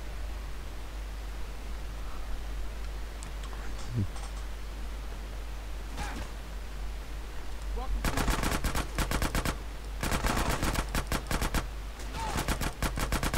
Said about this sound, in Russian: Даже проститутки стреляют.